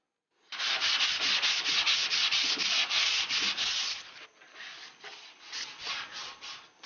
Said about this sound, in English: I'm sanding with some 180.